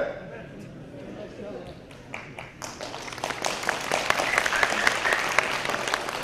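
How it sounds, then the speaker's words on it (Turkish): The audience at a commemoration for the Ghulja martyrs bursts into applause after a speaker talks. Scattered claps gather midway into loud, sustained clapping from many hands. "Hocam biz alkış alıyoruz, artık bu alkışlar bizi şımartacak"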